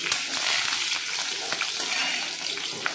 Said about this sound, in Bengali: ঘিয়ের মধ্যে এই শুকনো লঙ্কা আর কাঁচা লঙ্কা ফোড়ন দিয়ে দিলাম।